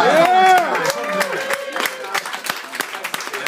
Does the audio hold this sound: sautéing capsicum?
no